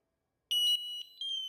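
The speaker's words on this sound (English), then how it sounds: "it beeps, the smoke tester itself, the smoke sensor beeps, the sounder strobe beeps and flashes red" A Hikvision LoRa wireless smoke detector, triggered by smoke tester spray, gives a loud, steady high-pitched electronic beep that starts abruptly midway and continues with a brief dip, alone and close.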